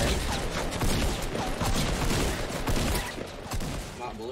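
Rapid gunfire from a Fortnite battle royale match, with dense, loud bursts and overlapping shots running continuously through the stretch.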